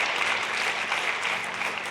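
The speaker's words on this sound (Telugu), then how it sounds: "గట్టిగా కొట్టండి దేవునికి చప్పట్లు." A church congregation claps loudly and steadily, a dense, even wash of many hands with no voices over it.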